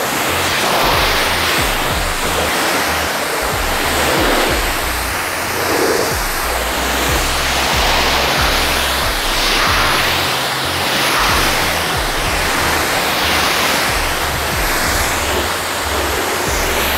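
A pressure washer rinsing a car after a foam lance wash, a loud, steady hissing spray that surges and eases in slow waves as the jet sweeps across the panels, with no talking.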